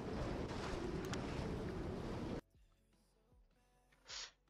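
Wind at sea on a sailing boat, a loud broadband rushing roar for a couple of seconds that cuts off abruptly, followed by quieter creaks, knocks and a brief gust.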